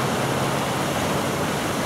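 Continuous broadband rush of white water surf, a dense steady hiss and roar with no breaks or voices.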